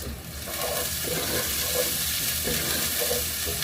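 Green chilies frying with garlic and mixed vegetables in a pan, a steady close sizzle with bursts of stirring scrapes, no talking.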